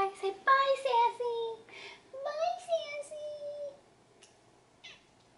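A pet cat meows several times in short, rising and falling calls, fairly close and clear, with a couple of brief pauses and a faint final call.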